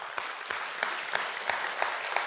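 An audience applauds at a church Christmas service, steady clapping with a few sharper claps standing out, continuous for a couple of seconds.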